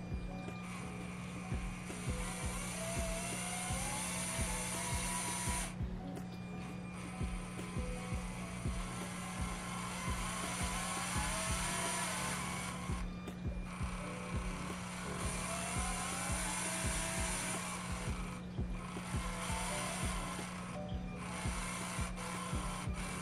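LEGO Mindstorms 51515 robot motors running under remote control, a steady mechanical whir with a constant hum and dense grinding clatter that continues unbroken, pausing briefly now and then before resuming.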